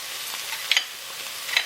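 Coriander powder sizzles in a pan of oil with ginger garlic paste for a spicy coconut milk chicken curry, a steady close frying hiss with a couple of soft stirring scrapes.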